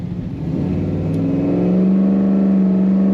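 A 1955 Chevrolet 210 engine idles steadily and smoothly, close by, with a low even hum that rises slightly and holds.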